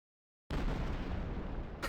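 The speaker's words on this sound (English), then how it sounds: "I'm gonna try the holy hand grenade." The holy hand grenade in a video game goes off as a sudden, loud explosion with a sustained roaring rumble that fills the rest of the moment.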